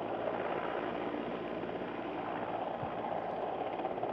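An army helicopter hovers during a rescue operation demonstration with ropes and a basket, a steady distant rotor drone and engine hum holding at a constant, fairly faint level for the whole stretch.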